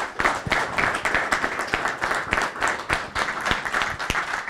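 Clapping from an audience at a flute session breaks out in irregular, close claps of moderate loudness, a lively patter with individual sharp hits standing out and no talking.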